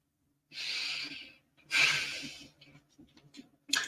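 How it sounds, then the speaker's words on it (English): Two long, deep breaths for stress relief, each a loud airy rush in or out lasting about a second, followed by softer uneven breathy sounds and a short sharp exhale at the end, close to the microphone. "Deep breathing,"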